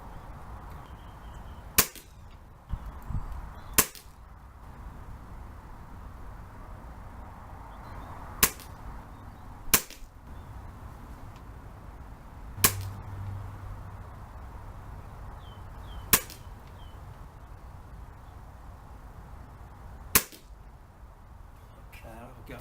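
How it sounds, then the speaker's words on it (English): An AGS SPR10 custom-tuned rifle with a modified trigger fires seven sharp, isolated shots at a target, spaced a few seconds apart against a quiet outdoor background. "I'm going to shoot at the top left target."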